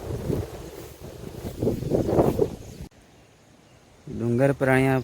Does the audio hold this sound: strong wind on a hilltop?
yes